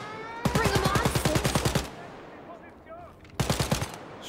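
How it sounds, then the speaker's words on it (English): Rapid automatic gunfire in Wolfenstein: Youngblood, a loud burst of about fifteen evenly spaced shots over a second and a half, then a short pause before a second, briefer burst of five or six rounds. "He started firing very quickly."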